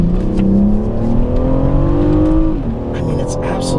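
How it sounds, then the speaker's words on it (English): A 2017 BMW M760i revs hard, its engine note rising steadily with loud layered exhaust and induction harmonics, then dropping off sharply near the end while the engine keeps running. "I can't tell if there's a big exhaust note or if this is mostly induction harmonics"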